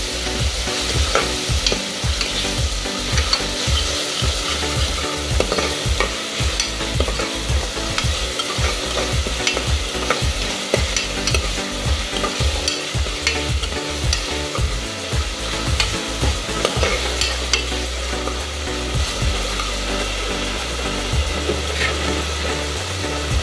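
Masala with green chilli paste fries in oil for misal while being stirred, a loud steady sizzle with rapid rhythmic scraping and tapping of a spatula that continues throughout, without speech.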